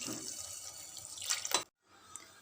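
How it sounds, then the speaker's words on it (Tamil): Coconut milk pours into a pot in a steady splashing stream, then cuts off abruptly, leaving a faint quiet tail. No voices. "இந்த ஸ்டேஜில் நாங்கள் எடுத்து வச்சுருக்க தேங்காய் பால் இதில் ஆட் பண்ணிக்கலாம்."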